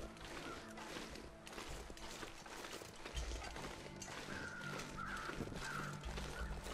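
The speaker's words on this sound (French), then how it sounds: "J'entends des corbeaux là-bas." Crows caw at a distance in The Long Dark, a few harsh calls rising over a steady wind-like ambience with soft footsteps and low rumbles, fairly faint throughout.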